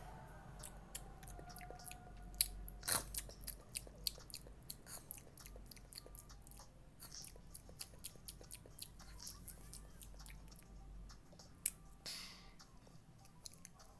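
Food being eaten close to the mic, a steady series of soft bites, crunches and moist chewing sounds repeating at an uneven rhythm, fairly quiet with no talk.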